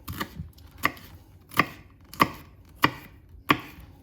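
A knife chops through a whole chili, seeds included, on a board: six distinct, evenly spaced thuds, close and fairly crisp, with no talk.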